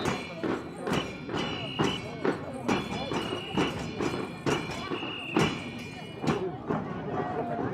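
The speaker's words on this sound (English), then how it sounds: "Bringing up the rear of the parade, the stars of the day, the horses and their riders." Horses with riders near the rear of a parade clip-clop on hard ground, a steady near sequence of hoof strikes with occasional louder thuds, while a voice talks over them.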